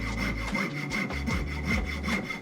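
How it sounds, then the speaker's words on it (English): A fine jeweler saw with a number 2 blade cuts into a wooden bench pin, giving steady, close rasping strokes in an even back-and-forth rhythm with no talk. "going in with the jeweler saw"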